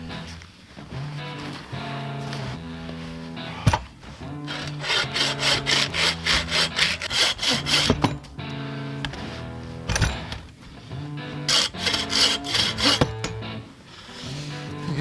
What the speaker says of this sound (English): Now the real work begins, bucking it up and limbing it.